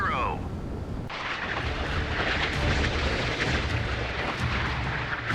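Missile impacts in the naval warfare game Sea Power, heavy booming blasts that roll into a continuous loud rumble after a brief lighter opening, with no talk over it.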